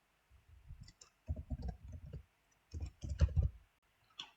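Computer mouse clicks at a desk during a Google sign-in: quiet, close, dry clicks in small irregular clusters separated by short pauses.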